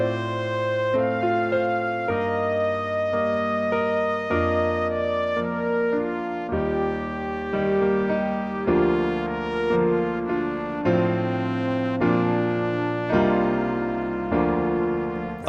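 Piano playing the high orchestral melody line from a song's intro and interlude, a steady legato run of single notes over held chords, clear and alone at moderate volume.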